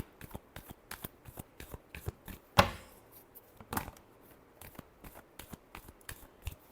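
Tarot cards are shuffled by hand in quick, crisp flicks and slaps, with a couple of louder riffling bursts among the rapid, irregular taps, close and with no talk.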